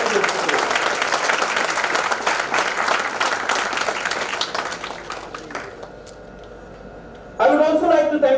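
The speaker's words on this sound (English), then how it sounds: "big round of applause for all the faculty members of Prestige and staff members of Prestige Institute" Loud, dense applause from a conference audience at an international conference, steady for several seconds before fading out, then a voice abruptly starts speaking close up near the end.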